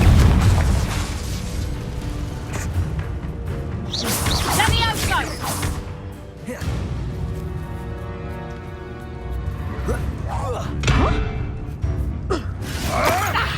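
Fiery Confringo spell blasts in the Hogwarts Legacy video game burst out repeatedly amid a duel, with whooshing bursts and booms layered under shouted spell incantations and battle music.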